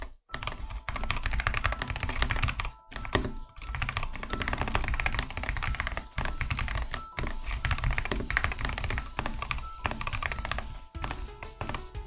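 Fast, continuous clicking of keys on a new computer keyboard, with dense bursts of taps and short pauses, close and loud with no one speaking.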